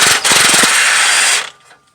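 A ratchet works 14 mm exhaust bolts loose on an Acura TL, giving a quick burst of close clicking followed by a loud steady whir that stops abruptly.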